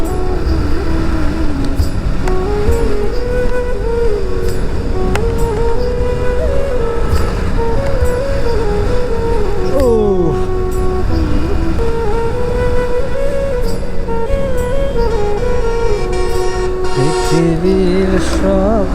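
Loud, continuous traffic on the Naogaon–Santahar highway, with passing vehicles roaring close by, engine drones shifting pitch and a couple of horn-like tonal bursts, no talking.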